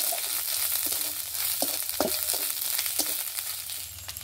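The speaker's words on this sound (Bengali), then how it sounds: "আদা রসুনের কাঁচা গন্ধটা চলে গেলেই এবার আমি কাঁচা লঙ্কা দিলাম।" Green chillies dropped into hot oil with frying ginger and garlic paste for a Bengali potato chop masala, giving a steady close sizzle with a few sharp crackles and light stirring scrapes, no talking.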